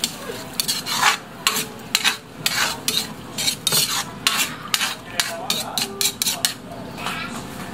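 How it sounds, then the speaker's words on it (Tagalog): Dinuguan, a Filipino pork blood stew, stirred in a cooking pot: a spoon scrapes and clinks against the metal in an uneven series of strokes, close and fairly loud, with a steady simmering hiss underneath. "Haluin natin."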